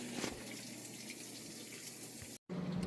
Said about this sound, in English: Get the rest of that used up water out before we are on to the final spin cycle.